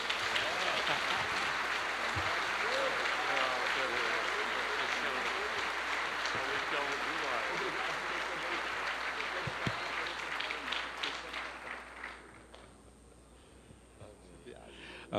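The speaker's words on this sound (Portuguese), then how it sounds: "Recebamos o pastor Eibe com forte aplauso ao Senhor Jesus." Church congregation applauding for a pastor, a long, even wash of clapping with voices mixed in, tapering off near the end before a brief quiet.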